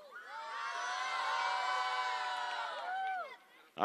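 An audience at a Game Evolution 2016 panel cheers and whoops loudly, a swelling mass of high voices holding for about three seconds before fading, then a sharp burst at the end.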